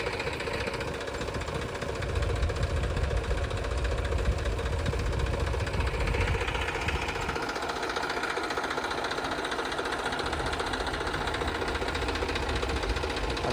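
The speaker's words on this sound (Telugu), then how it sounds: "ఒక ఇంజిన్ అయితే పెట్టి తోడుతున్నారు అన్నమాట." An engine-driven pump draining rainwater from a flooded underground construction site in Amaravati, a steady rapid knocking drone that runs continuously and fairly close, with no speech.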